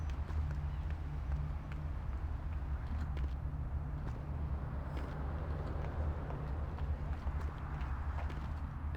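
Footsteps and scuffing movement outside in the video game Vampire: The Masquerade – Bloodlines, a steady busy patter over a constant low hum that fills the whole stretch.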